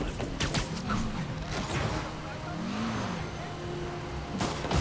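A car in the Spider-Man video game drives with a steady, close engine drone, and sharp knocks and crash-like hits come at the start and the end.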